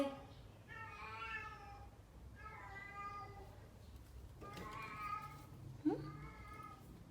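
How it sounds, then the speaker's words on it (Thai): A cat meows several times in a row, each call drawn out and clear, over a low background hum with a brief sharp sound near the end. "เสียงแมว เสียงแมว"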